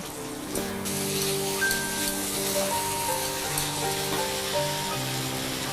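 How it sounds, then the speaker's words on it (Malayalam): Steady hiss and crackle of soya chunks frying in hot oil, close and continuous, with occasional faint clinks from a utensil. "ഇതിനകത്തേക്ക് ഒഴിച്ചിട്ട് വീണ്ടും ഇളക്കി ഫ്രൈ ചെയ്യാം"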